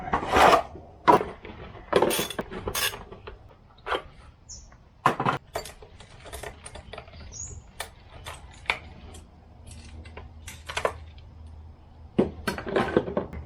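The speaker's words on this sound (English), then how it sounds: "we have only got one chain to sharpen, and it's the one that's on the saw" A file sharpens the chain while it is still mounted on a chainsaw, the chain carrying sap and burnt buildup: scattered short rasping strokes come in irregular bursts with quiet gaps between, up close and without talk.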